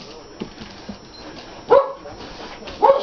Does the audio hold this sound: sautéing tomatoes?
no